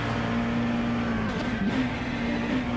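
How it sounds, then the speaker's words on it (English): Volvo S40 BTCC touring car in a sim racing game at Sachsenring, a steady loud engine drone with a brief pitch dip as the car downshifts, no talk. "Downshifts into fourth,"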